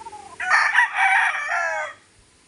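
A rooster on a gamefowl farm gives one loud, close cock-a-doodle-doo crow lasting about a second and a half, standing alone over a quiet background.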